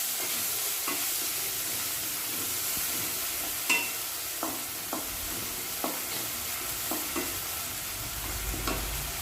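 Ginger, garlic and onion paste frying in hot oil while being stirred, a steady soft sizzle with intermittent scraping clicks from the spoon, close by and alone.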